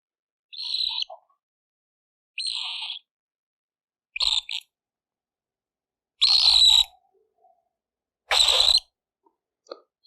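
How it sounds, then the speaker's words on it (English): A pet cockatiel lets out five sharp, shrill screams while being petted, each about half a second long and spaced roughly two seconds apart. The calls are loud and close against near silence. "Got blessed with a screaming bird that only wants to be pet and scream"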